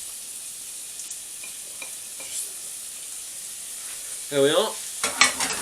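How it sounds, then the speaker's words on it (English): Gammon and pork steak sizzle steadily in a stir fry pan, with brief scrapes of stirring and a louder burst of clattering mixing near the end; a voice speaks briefly. "keep on mixing that in, get it all mixed together"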